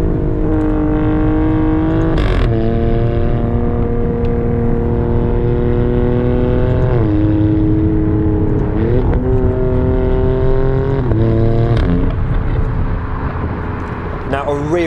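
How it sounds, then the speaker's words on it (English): An Alfa Romeo Stelvio Quadrifoglio climbs loudly through the gears, its engine note rising steadily and dropping back at each shift, with short exhaust crackles at the changes, heard from inside the car. "you have to sort of step on it to get those farts as you go through the gears"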